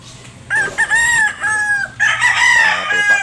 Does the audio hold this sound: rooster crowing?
yes